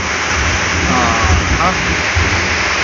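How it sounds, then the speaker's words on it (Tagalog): Heavy rain pours down outdoors at a building site, a loud, dense, unbroken hiss that fills the whole stretch without pause and stays close and constant throughout. "Lakas ng ulan"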